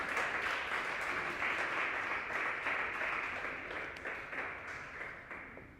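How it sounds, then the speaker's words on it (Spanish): A church congregation applauds during a service, a continuous wash of clapping that holds steady and then slowly tapers off toward the end. "¿Puedes darle un aplauso al Señor?"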